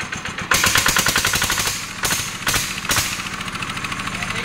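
An HS 85 air rifle fires several loud, sharp reports, with rapid rattling pulses between them and a steady mechanical chatter underneath.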